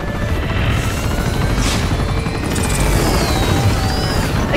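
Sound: helicopter in video game Uncharted 2

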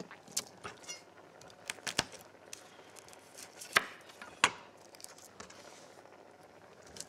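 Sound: crushing and chopping garlic

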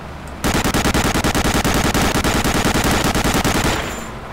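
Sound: machine gun fire in Medal of Honor: Allied Assault video game

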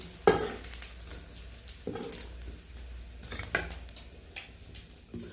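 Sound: frying Bombay duck fish in hot oil

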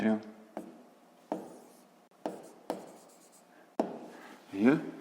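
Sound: writing out a math solution

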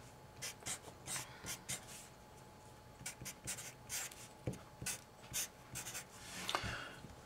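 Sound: writing a math derivation

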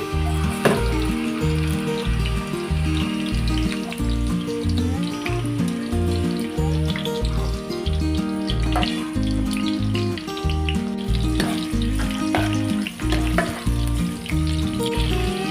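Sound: sliced onions frying in hot oil

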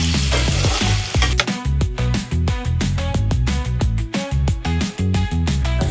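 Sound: ivy gourd (dondakaya) frying in pan on medium flame

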